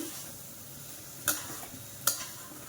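Barnyard millet roasts in ghee in a pan for a fasting rice dish, giving a faint, steady sizzle with two brief clicks of a utensil against the pan.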